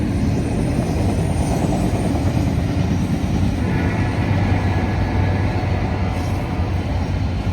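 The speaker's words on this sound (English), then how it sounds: "Wow, this train crept up on me." A heritage-powered freight train passing close by, a loud, continuous rumble and roar of engines and wagons that holds steady throughout, with no voices.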